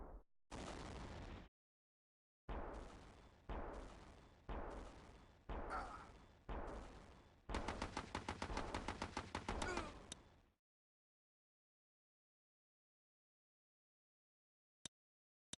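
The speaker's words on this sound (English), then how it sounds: "Fire all batteries." Artillery batteries firing in the video game Battle Islands Commanders: a series of separate loud blasts, each with a short decaying tail, then a rapid rattling volley, silence and two faint clicks.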